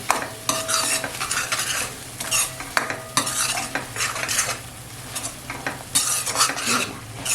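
Spiced masala paste sautéed in oil for restaurant-style chicken gravy, with a steady sizzle and repeated scraping, clinking stirs of a utensil against the pan, loud and close with no voices.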